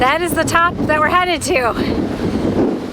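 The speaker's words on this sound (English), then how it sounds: "It's so windy." Strong wind buffets the microphone on a mountain peak during a hike in Taiwan, a steady roaring rush that runs under speech and continues alone after the voices stop.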